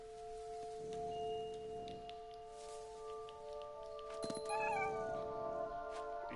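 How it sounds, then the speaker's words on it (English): A cat in the video game What Remains of Edith Finch lets out a few short, faint meows over a quiet, steady tonal game soundscape, with no talk. "És um gato."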